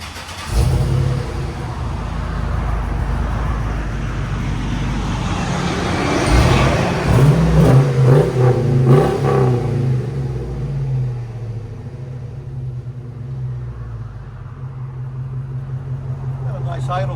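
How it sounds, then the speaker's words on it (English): A 2006 Hummer H2 with a 6.0L V8, Flowchaser muffler and tailpipe rumbles close by at idle, swells through a deep rev midway, then settles back to a steady burble while a voice speaks over it. "2006 Hummer H2 Flowchaser Muffler and tailpipe."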